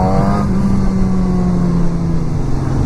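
A 2016 Suzuki GSX-S1000 ABS sportbike engine pulls hard from around 5,000 rpm, a loud, steady, rising growl held close and continuous with no talking over it.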